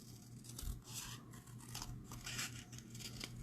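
Scissors snipping through card stock while trimming a glued scrap on a stitched triangle Christmas card, a run of close, crisp cuts with papery rustle, alone without talk.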